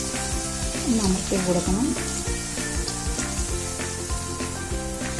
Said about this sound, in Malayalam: എണ്ണ ചൂടായി. നമുക്ക് ഓരോന്നും ഫ്രൈ ചെയ്തെടുക്കാം. എണ്ണയിലോട്ട് ഇട്ട് കൊടുക്കാം.